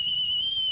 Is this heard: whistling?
yes